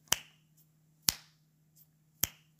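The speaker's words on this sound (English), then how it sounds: "Can you hear me snapping and see my fingers?" Three crisp finger snaps, evenly spaced about a second apart, close and clear against a quiet background with a faint low hum.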